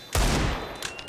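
Rapid, dense pistol fire in a Counter-Strike match at a pro tournament, with loud overlapping shots filling the moment and more shots right at the end.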